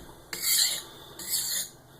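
A blade is sharpened on a waterstone with light pressure: two slow, gritty rasping strokes, close and clear, with a quiet pause between them.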